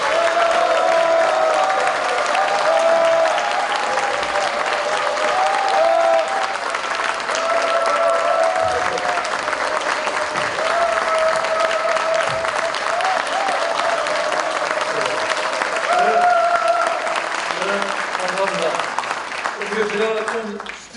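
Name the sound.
audience applause welcoming a speaker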